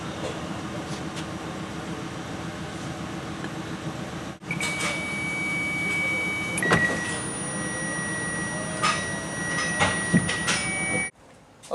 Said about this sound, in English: see if we can get the motor to go back up